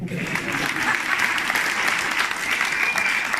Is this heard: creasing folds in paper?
no